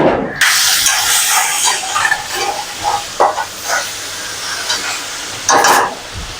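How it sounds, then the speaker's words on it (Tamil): Asafoetida powder dropped into hot oil in a pan for a dalia pongal tempering, giving a loud, steady sizzle with brief hissing bursts, heard alone without talk. "உடனே ஆஃப் பண்ணிவிட்டு அதிலே கொஞ்சமாக பெருங்காய பொடி போட்டுட்டு"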